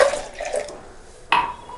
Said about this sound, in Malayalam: അതുപോലെ ഐസ് വാട്ടർ ഒഴിക്കാം.